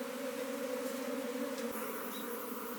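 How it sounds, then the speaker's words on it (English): A swarm of Japanese honey bees clusters on the outer wall of a hive at a traditional Japanese house, giving a constant, close buzzing drone with steady tone, a faint tick partway through, and no talking. "There are a lot of bees on the outer wall of the hive."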